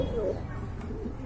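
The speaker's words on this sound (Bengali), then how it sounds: "এটা হচ্ছে আপনার সিরাজি কবুতর" Sirazi pigeons, white with feathered feet, give a soft low cooing close by, a brief murmuring call over a steady background hum.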